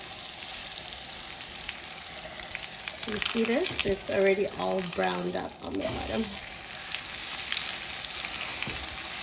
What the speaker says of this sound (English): you want to make sure your skillet is sizzling as you insert your steak